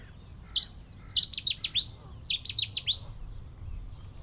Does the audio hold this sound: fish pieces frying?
no